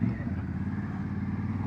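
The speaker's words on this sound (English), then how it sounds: "I do love the sound of this twin. The engine is just" A 2025 Honda Africa Twin's twin-cylinder engine drones steadily while being ridden, a low, even rumble heard from the saddle at moderate volume with no clear revving.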